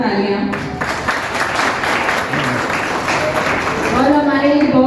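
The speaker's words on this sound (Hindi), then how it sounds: "लीडर्स के लिए भी जोरदार तालियां।" Loud applause from a crowd at a Women's Day political gathering, honoring the leaders; steady dense clapping throughout with voices mixed in and a speaker's voice emerging near the end.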